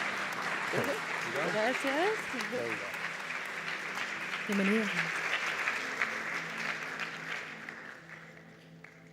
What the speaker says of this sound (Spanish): Le damos un aplauso a Christine.